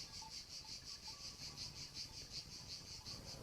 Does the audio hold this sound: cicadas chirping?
yes